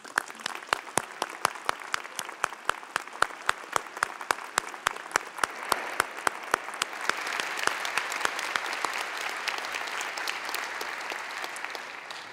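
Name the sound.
audience applause at convocation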